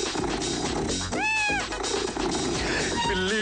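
A cat gives one clear, drawn-out meow in the middle of the clip, set against a busy musical backing with other sounds running underneath.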